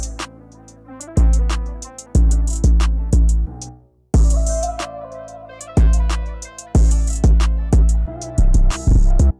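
A dry, unprocessed hip-hop beat with punchy kick and snare hits, hi-hats and a melodic loop, a brief drop near the middle, no voices.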